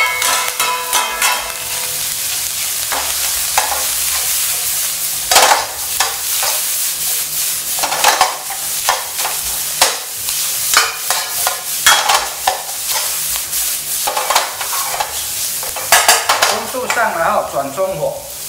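Pickled mustard greens stir-fried in a wok over high heat, with loud continuous sizzling and the frequent scrape and clatter of a spatula against the pan, close up.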